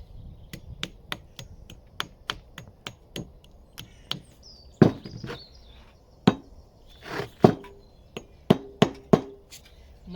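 A brick hammer knocks at the edges of a stone block to square them, with sharp, close strikes in a steady rhythm that later turn into irregular, heavier blows and scraping chips.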